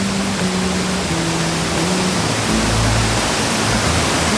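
Steady broadband rush of a swollen stream near Bhorle waterfall on a Nepali hillside, continuous and loud with no breaks, filling the whole clip without voices.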